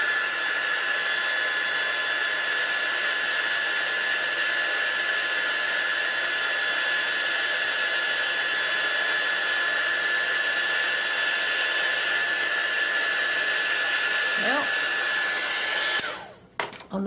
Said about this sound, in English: Then I'm going to get my heat gun out again.